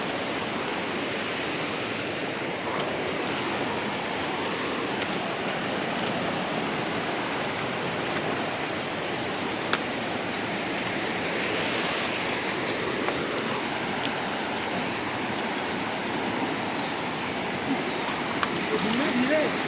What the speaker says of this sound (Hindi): ये सारा जो पानी है ये वाटरफॉल का ही है।